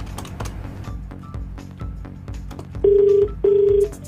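A phone call is dialled, with soft tapping and background sounds first, then two long steady ringback tones with a short gap between them.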